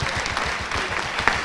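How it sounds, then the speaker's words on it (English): Church congregation claps hands in praise during a sermon, with a brisk, fairly loud burst of many hands and a rhythmic pulse underneath it. "Somebody to clap your hands and give God the praise."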